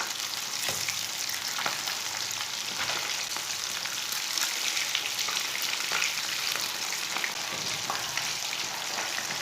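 Pieces of fish for a Lahori fish fry sizzle in hot oil over a medium flame, producing a dense, continuous hiss close by, sprinkled with small crackles.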